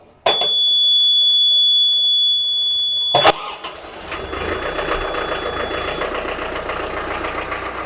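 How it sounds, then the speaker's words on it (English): A loud engine cranks with a sharp burst, then catches and settles into a rough, steady idle that continues close by. "I'll be able to turn the key and start the engine."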